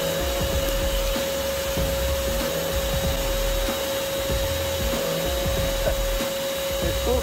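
A vacuum hose sucks yellow jackets out of a huge, heavy nest packed with adults, pupae and larvae, giving a loud, constant whine with scattered rattling thuds as insects and debris get pulled in.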